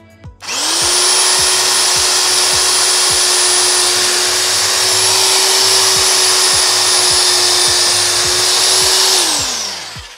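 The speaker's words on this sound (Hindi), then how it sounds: "अब देखो इस पर हैमरिंग नहीं चल रही, सिर्फ ड्रिल का ही काम करेगा।" An INGCO RH10508 heavy-duty rotary hammer, about 7 kg, runs in drill-only mode with no hammering. It spins up to a loud, steady whine with an even motor hum, holds for about nine seconds, then winds down.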